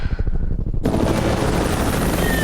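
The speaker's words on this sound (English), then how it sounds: "There are choppers flying here all the time, you know that." Helicopters pass overhead with loud, rapid rotor chopping. It starts as a choppy pulse, then swells into a dense, roaring wash that fills the short stretch.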